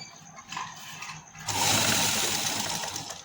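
A sewing machine stitches lace trim onto fabric along marked points. Light handling noises come first, then a close, steady motor hum with a rapid needle chatter that runs unbroken to the end.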